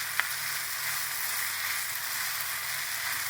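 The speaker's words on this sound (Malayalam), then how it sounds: "അങ്ങനെ ഹൈ ഫ്ലെയിമിൽ വെച്ച് 2 മിനിറ്റ് കൂടി ഒന്ന് ഇളക്കി കൊടുക്കണം." Chicken Maggi noodles stir-fried on a high flame give off a steady, broad sizzle that holds evenly throughout, with a single brief clink of a utensil near the start and no talking.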